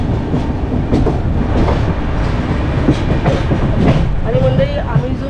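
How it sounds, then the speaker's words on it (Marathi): Bandra Madgaon Express rolling slowly, heard from inside a coach as a loud, continuous rumble with rhythmic wheel clatter and occasional metallic squeals. "ट्रेन आपली स्लो स्लोमध्ये जात आहे."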